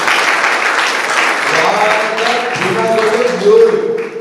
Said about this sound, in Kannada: ಜೋರಾದ ಚಪ್ಪಾಳೆ ಬೇಕು.